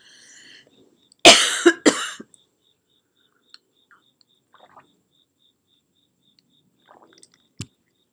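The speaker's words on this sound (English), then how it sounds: "I have to cough." A person coughs twice in close succession, loud and near, in an otherwise quiet indoor room with a faint high insect-like tone and a few soft clicks afterward.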